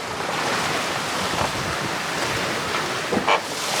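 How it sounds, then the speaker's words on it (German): Heavy, rough North Atlantic swell washes and surges around a sailboat crossing the ocean, a steady broadband roar of waves and wind noise with a brief louder splash near the end, no talk. "Das ist Ja, ist schon ein fettes Meer, ey."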